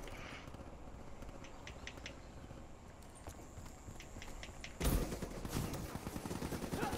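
Video game gunfire aimed at a hardened sentry, a rapid burst of shots that begins abruptly and continues loudly over a background of hoofbeat-like clatter and tapping.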